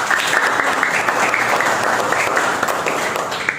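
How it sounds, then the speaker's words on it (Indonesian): A classroom audience claps steadily for a student named Gabriel during a teaching practice session, a dense, even wash of hands that runs without a break for a few seconds. "Tepuk tangan untuk Gabriel."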